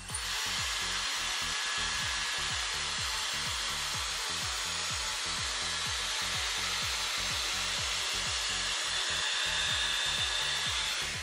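A Dyson Airstrait hair styler blows steadily on its cold shot setting, a loud continuous airflow hiss with a fast low pulsing underneath, unbroken from start to finish.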